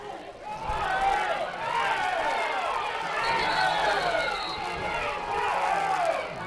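A Marshall County high school football crowd roars during a kick, a dense sustained mass of shouting and cheering voices from the stands that stays loud throughout with no clear pauses.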